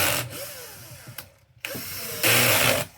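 An auto screw gun works the screws on an Xbox Series X, giving a close whirring, ratcheting buzz in two bursts separated by a brief quiet pause, with no voices.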